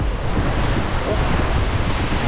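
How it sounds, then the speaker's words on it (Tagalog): Strong typhoon wind roars steadily during Typhoon Uwan on Burias Island, a loud, continuous broadband rush with low rumbling gusts and no pauses. "tapos yung hangin malakas pa rin"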